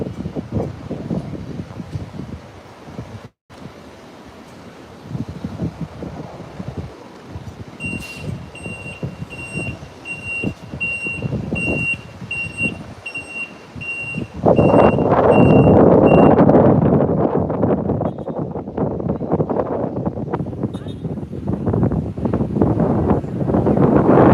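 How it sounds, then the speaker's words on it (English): A service truck reverses away from a Twin Otter aircraft at an airfield, its beeper sounding in a steady repeating series over engine rumble and wind noise before the truck pulls off with a louder roar. "Truck pulling away, having service"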